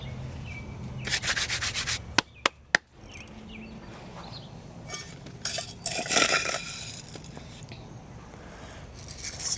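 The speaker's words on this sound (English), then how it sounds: "Let's take our soil and move our soil back to the front here" Potting soil is scraped and shoved around inside a concrete flower container on a front porch, producing close rough rubbing and scraping bursts with a few sharp clicks in between.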